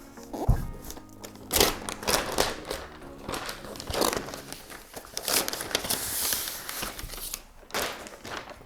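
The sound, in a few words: peeling protective plastic off a MacBook Pro 16 inch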